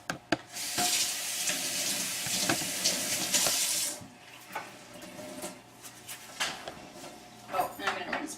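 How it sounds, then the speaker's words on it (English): Water streams from a kitchen tap for about four seconds, a bright steady hiss as a spare cleaning sponge is wetted, then stops, leaving small clinks and handling sounds while someone talks quietly. "I'm just going to wet my spare sponge."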